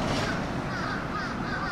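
Crows caw in a noisy outdoor setting in Japan, their rough calls blended into steady broadband background noise at moderate distance.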